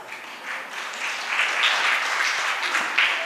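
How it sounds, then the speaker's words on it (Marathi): An audience claps continuously at a women's talent and culture celebration in Panaji, a dense, even wash of hands that swells slightly toward the end, with no voices. "टाळ्या भरपूर कमी झाल्या."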